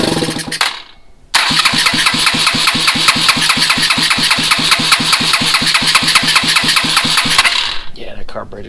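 A swapped carbureted engine cranks, catches and settles into a loud, steady running idle with a fast regular firing pulse, briefly cut off at the start and fading slightly at the end.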